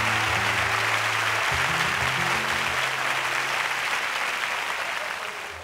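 A studio audience breaks into loud, dense applause that holds steady before tapering slightly at the end, with a faint tonal hum from the studio underneath.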